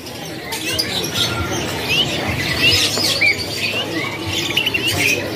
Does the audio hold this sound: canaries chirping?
yes